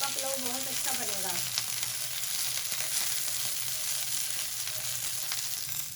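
Vegetables frying lightly in oil in a pan for vegetable pulao, a steady close sizzle running throughout with no talk.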